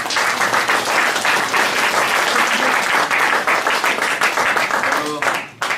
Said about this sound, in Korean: 우리 이상열 선생님께 감사의 박수를